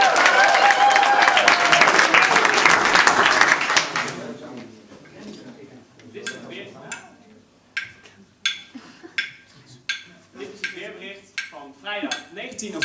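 A burst of audience applause at a school poetry event that fades out after a few seconds, followed by quieter clinks and clatter.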